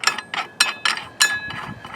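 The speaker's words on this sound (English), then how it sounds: "in order to lock the motor, you just actually use an Allen key" Quick metallic ratcheting clicks come in short bursts as an Allen key turns to loosen the blade bolt on a tile saw, close and clear with no talk.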